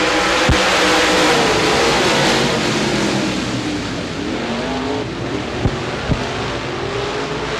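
Modified race cars roar off the start at Devils Bowl, a dense, loud wall of engine noise from the pack with rising revs and a couple of sharp low thumps near the end.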